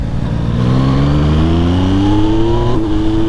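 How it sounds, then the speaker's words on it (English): Yamaha MT-09 motorcycle engine revving loud and close, its pitch climbing steadily through a long pull, dipping briefly near the end before rising again. "the MT-09. A torquey little motor, all the way from the dark side of Japan."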